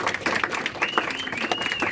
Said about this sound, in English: Clap it up if you love your mom.